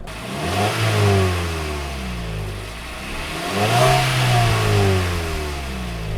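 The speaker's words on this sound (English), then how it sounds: "I will be testing the exhaust sound" A Mazda CX-5 with a 6-speed manual revs up twice, the exhaust note rising and falling in loud, throaty sweeps from close by.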